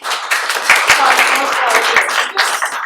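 An audience at a community health and climate event claps in a burst of applause, with a voice speaking over the clapping.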